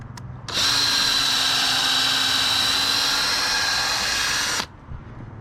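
A power drill countersinks a screw hole in wood for a twin bed frame, one loud, steady whine lasting about four seconds, close by, starting and stopping abruptly.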